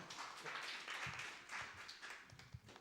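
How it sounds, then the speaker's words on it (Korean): A small youth congregation at a Sunday church service claps for a newly arrived teenager, a soft, scattered round of applause heard from a distance. "민규에게 박수 한번 줄까요?"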